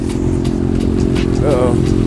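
Motorcycle engines rumble loudly and close by in a steady drone at a car show, with a voice talking over them.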